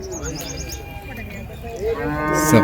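Cattle lowing at the Uthangarai cattle market in Krishnagiri district, where native draught bullocks are brought for sale; a long, loud moo swells up through a busy background of market chatter and faint bird chirps.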